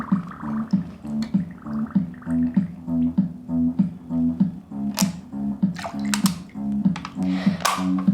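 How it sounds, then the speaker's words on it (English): Air bubbles escaping from an upturned glass held in a container of water, a close run of repeated gurgling, bubbling pulses at a steady rhythm, with sharper splashy bursts toward the end. "Observe the bubbles coming out, and also we can hear funny sounds."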